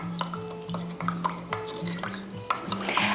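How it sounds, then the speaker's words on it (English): A spoon stirs a brine of vinegar and salt in a container, giving repeated clinks and scrapes in an uneven rhythm with faint liquid swishing, close and moderately loud, with no voice over it. "It's 1 cup of vinegar to 2 tablespoons of salt. We're gonna mix this up."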